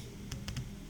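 Keys clack on a computer keyboard while text is entered into an Excel simulation exam, with three quick close clicks in a short burst and one fainter tap after, over a low steady room hum.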